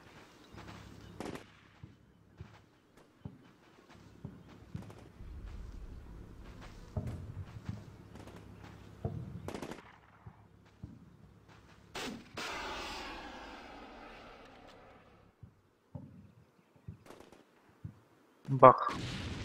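Sparse booms and sharp blasts from the game Combat Mission: Shock Force, one whooshing Javelin missile launch midway, with scattered clicks and a loud final impact.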